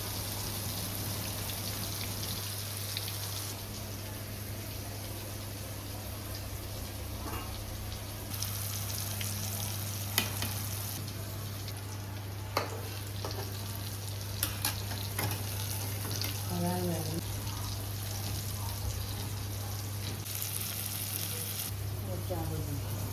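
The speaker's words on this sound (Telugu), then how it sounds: "ఫిష్ ఫ్రై అండ్ అలాగే ఎగ్ ఫ్రై రెండు రెడీ అయిపోయినాయి" Fish and egg fry in a pan, with a steady, fairly quiet sizzle and occasional sharp pops, plus a low background hum.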